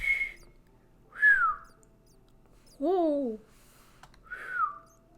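A person whistles short tonal notes during a casual livestream, four separate rising and falling phrases with a brief exclaimed word in between, fairly close and clear over a quiet background.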